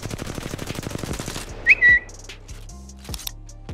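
An R-301 rifle in Apex Legends fires a rapid sustained burst of shots for about a second and a half, then a shrill whistle-like tone rings out, followed by a few scattered clicks and thuds.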